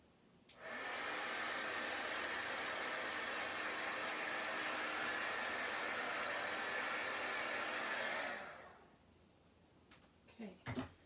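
A heat tool drying chalk paste on a craft project blows a steady, loud hiss for about eight seconds and then cuts off, followed by a few soft handling taps nearby.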